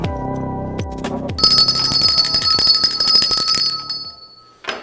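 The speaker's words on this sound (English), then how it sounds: "An extra bell." A bright bell rings loudly and steadily for a few seconds after some low thumps, then stops abruptly with a brief clatter at the end.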